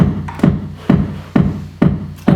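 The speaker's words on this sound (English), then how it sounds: "So the bottom part of the kick sounds like this." Gated low end of a kick drum in an electronic music production, five punchy, distorted thumps at an even tempo, each cut off quickly with a faint rumbling tail between hits.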